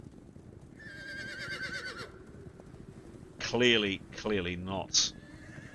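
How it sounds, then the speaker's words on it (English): Panicked horses neighing in a sound effect, with a shrill whinny followed by several wavering, agitated neighs close by and hoofbeats beneath, while a person talks over the start. "there is the sound of horses behind you"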